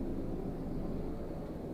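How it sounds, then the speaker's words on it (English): Helicopters passing overhead, a steady loud low rotor drone that holds evenly throughout with no voices over it. "I'm getting attacked by helicopters."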